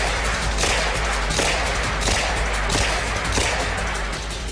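Rapid bursts of full-auto gunfire from an Uzi submachine gun, loud and close, with dense cracking shots repeating in several quick volleys that fill the whole stretch.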